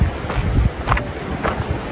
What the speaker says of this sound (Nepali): हावा चाहिँ ननस्टप चलिरहेछ,